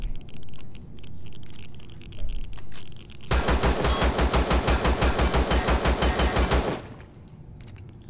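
Rapid automatic gunfire from a weapon in the space survival game Empyrion Galactic Survival, a steady burst of evenly spaced loud shots lasting a few seconds before cutting off, set against quieter game ambience.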